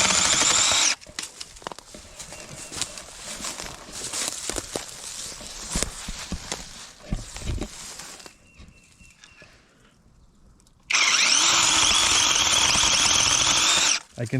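Battery-powered chainsaw cutting wood, bursts of high whirring motor noise at the start and again near the end, with clattering handling and cutting sounds between and a quiet lull before the final run.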